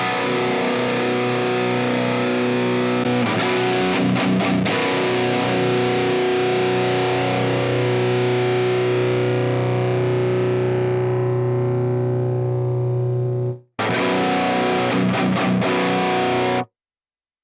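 Heavily distorted electric guitar played through an Axe FX III modeler with a Recto 2x12 cabinet, a thick sustained chug ringing for about thirteen seconds, a brief cut, then a few more seconds of riffing, loud and alone.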